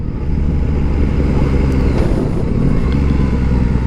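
Yamaha Tracer GT+ motorcycle engine revving up through the rev range, a loud, steady close-up engine roar with no speech.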